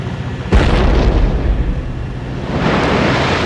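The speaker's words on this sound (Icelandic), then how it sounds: "Hér skotið á langreiði með sprengiskutli" An explosive harpoon is fired at a fin whale off Iceland in 1911 whaling footage: one sudden loud boom, followed by a long rumbling roar that fades and swells again.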